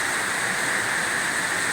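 Heavy rain pours down at night in Dasmariñas, Cavite, a loud, steady, close hiss of downpour with no breaks and no voices.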